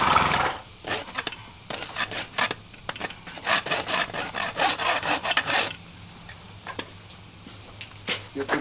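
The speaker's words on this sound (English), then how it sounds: "And rasp them just a little bit" A farrier's rasp files a horse hoof during shoeing, repeated close scraping strokes in a steady rhythm that pause briefly and resume, with no talk over them.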